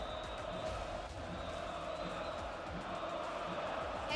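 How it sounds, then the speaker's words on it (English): A large esports crowd at the LEC 2025 Summer Playoffs lower bracket final, KOI vs FNC, cheers and roars continuously at a distance, a steady wash of voices without breaks. "And you hear them cheer for you right now, Supa."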